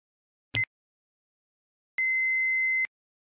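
An answering machine beep in a Japanese listening-comprehension test: a short click-like blip, then a steady pure electronic tone lasting under a second, alone in silence.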